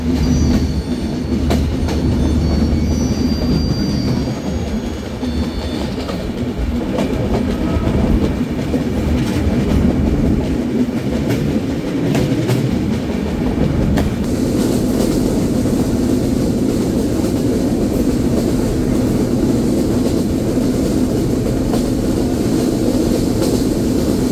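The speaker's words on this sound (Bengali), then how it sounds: "সুবিশাল গার্ড নিয়ে ট্রেনটি প্রবেশ করছে তার 5 নম্বর যাত্রাবিরতি স্টেশন পোড়াদা জংশনে" The Madhumati Express rolls along the rails toward Poradah Junction, a loud, continuous rumble with rhythmic wheel clatter and occasional squeals, heard close from on board.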